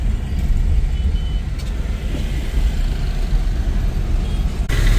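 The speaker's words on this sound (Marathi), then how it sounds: "प्रचंड अशी ट्रॅफिक." Heavy road traffic surrounds a car driving into Thane on the Nashik to Mumbai route, a steady loud rumble of engines and tyres with passing vehicles swelling and fading, no talking.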